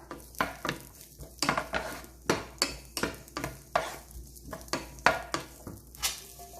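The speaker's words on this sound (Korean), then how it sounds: "이렇게 해서 양파 볶아서 꺼내주시고요" Onions being sautéed lightly in a pan for beef stew, a spatula scraping and tapping in a regular rhythm over a faint background sizzle, close up, with no one speaking.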